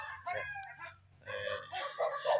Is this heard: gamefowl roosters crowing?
yes